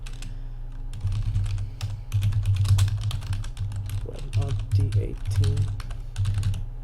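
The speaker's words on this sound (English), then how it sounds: "I'm going to open up the terminal. This whole process can actually be done through the terminal, and what we're going to do first is we're going to type this in." Fingers type in bursts on a computer keyboard, entering commands in an Ubuntu terminal; rapid, close key clatter comes in several runs with short pauses, and a voice speaks briefly.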